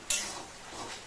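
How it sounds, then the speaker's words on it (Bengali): A single faint scrape and clink of a utensil stirring chicken in a pan with tandoori masala, a brief soft stir against the metal in a quiet kitchen. "মাঝখানে আমি একবার এই চিকেনটাকে নেড়ে চেড়ে নিচ্ছি"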